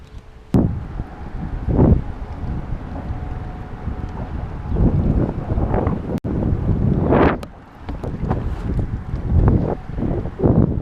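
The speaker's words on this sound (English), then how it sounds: "This wind is killing me" Wind buffets the microphone on a fishing boat out on Lake Norman, a steady close rumble that surges and gusts throughout, with no talking over it.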